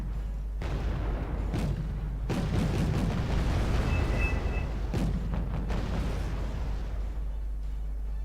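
Bomb blasts in the strategy game WarGame AirLand Battle, a few deep booming explosions rolling one after another over a low rumbling battlefield backdrop.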